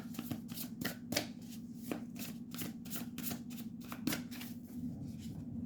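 Tarot cards are shuffled in the hands, giving a quick run of crisp, papery riffles and flicks close up, with a few sharper snaps as cards are drawn, over a steady low background hum.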